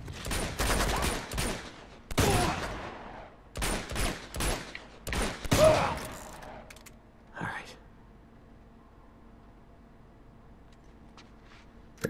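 Pistol gunfire in Uncharted 2 comes as several loud, sharp bursts of shots over the first six seconds. A quieter stretch follows with faint clicks and a low hum, and a voice talks softly.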